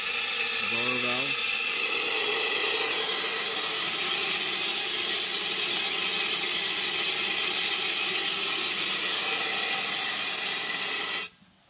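Steady broadband steam hiss from the blower valve of a steam engine boiler, loud and continuous for about eleven seconds before cutting off abruptly, with a faint low rumble underneath.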